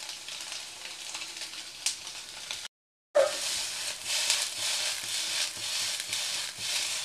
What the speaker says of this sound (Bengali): হালকা লাল লাল হবে এরকম ভাজবো, এরকম ঝাঁকিয়ে ঝাঁকিয়ে নিয়ে আমি ভেজে নেব